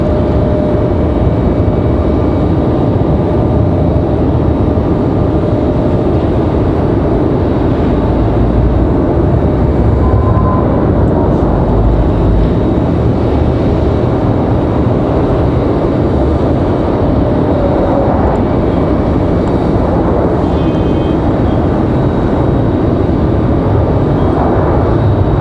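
A Boeing 737 MAX 9 airliner from Newark on final approach at Raleigh-Durham gives a loud, steady broadband jet roar that holds evenly throughout with no voices.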